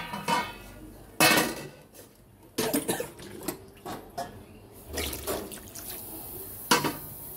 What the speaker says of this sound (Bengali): এরপরে জল দিয়ে দেওয়া হলো যাতে পটলটা আলুটা মানে ভালোভাবে গলে যায়।